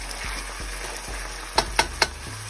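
Onions sautéing in a pan give a soft, steady sizzle, joined near the end by three sharp clinks of a utensil against the pan, close up and without talk.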